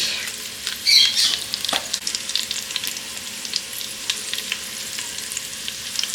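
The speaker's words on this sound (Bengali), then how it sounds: "আলু ভাজা হচ্ছে। এবারে ফোড়ন দিচ্ছি। প্রথমে শুকনো লঙ্কা দিয়ে দিলাম, তারপরে একটু জিরে দিয়েছি" Potatoes frying in oil as dried chilli and cumin go in for tempering, a lively close crackle and sizzle with a sharp burst of spitting early on and light stirring scrapes, no voices.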